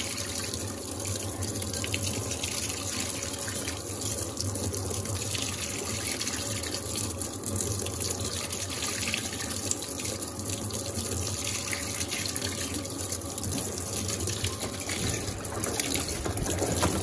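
An Electrolux Turbo Aqua Jet LTA15 direct-drive washing machine drains water during a towel load: a steady, continuous rush and trickle of flowing water holds unbroken for the whole stretch.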